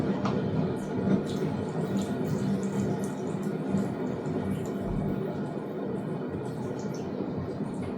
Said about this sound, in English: I think I might just add water to this last one.